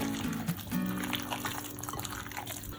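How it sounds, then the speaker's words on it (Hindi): Water poured into chicken pakora batter, a soft steady trickle and splash running close up for about three seconds, with no talk over it. "अब मैं इसमें थोड़ा सा पानी पहले डालूंगी"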